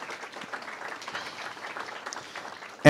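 A modest audience applauds at a book launch event, a soft, fairly distant patter of clapping held steady throughout before a sudden loud burst cuts in at the very end.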